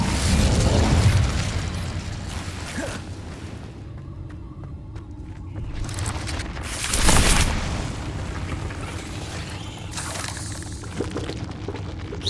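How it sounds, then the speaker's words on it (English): Incendio fire spell in Hogwarts Legacy: bursts of roaring, whooshing flame swell and fade several times, with the loudest eruption near the middle, over a rumbling game background. "Incendio."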